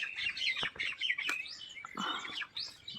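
Sparrows chirp in a mulberry tree beside a house, several quick, bright calls overlapping in short bursts, fairly faint against a quiet background.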